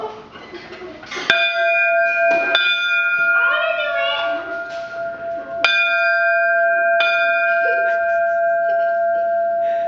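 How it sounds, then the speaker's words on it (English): A Chicago Fire Patrol bell rung by pulling its rope gives two loud, ringing strikes with long sustained metallic tones, with voices talking between and over the ringing. "someone go in the back and pull the bell."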